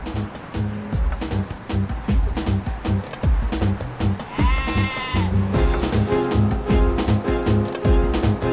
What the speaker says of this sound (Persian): گوسفند توش چی کار میکنه؟